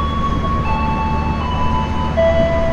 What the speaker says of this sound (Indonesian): itu kan kereta api Argo Bromo Anggrek, dan itu tuh kereta api Argo Lawu tambahan